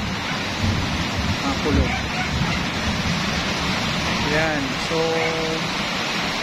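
Heavy afternoon rain pours in a steady broadband roar, with a faint low rumble that could be distant thunder. Someone talks over it in short phrases.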